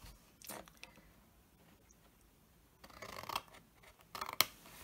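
Scissors snip and slide along the score lines of a paper or card test tube shadow box, a few close, crisp cuts with quiet pauses between, ending in a sharper cluster of snips.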